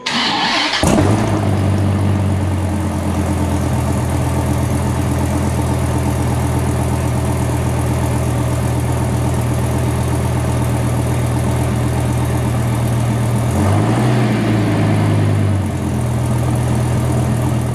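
A Dodge Viper fitted with a Belanger exhaust cranks and fires up, then settles into a loud, deep idle close by, with a brief blip of the throttle near the end.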